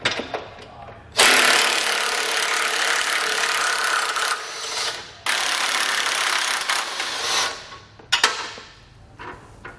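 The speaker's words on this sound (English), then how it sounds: "Again, grab our 18mm and pull those out." A power tool works 18mm nuts off the frame rail of a 2020 Jeep Wrangler, with two long loud whirring bursts followed by a few shorter, choppier runs close by.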